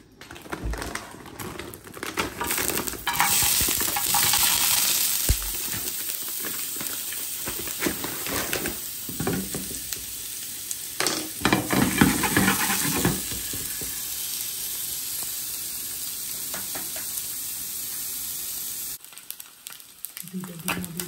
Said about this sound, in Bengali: এই চিকেনটা কিন্তু অলরেডি মানে কুক করা, আমি জাস্ট হালকা একটু ফ্রাই করবো